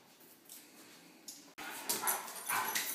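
Pet dog Wookie whimpering and yipping near a kitchen table, with short high whines followed by a louder burst of excited barks.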